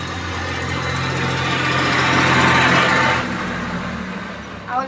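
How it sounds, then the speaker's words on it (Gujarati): A tractor passes close by, its engine rumble swelling to a loud peak and then fading away over a few seconds, with a faint voice at the very end. "ઓલો ટ્રેક્ટર નીકળ્યો ને એટલે અવાજ ન આવે ને એટલે ઘડીક બંધ થઈ ગયો"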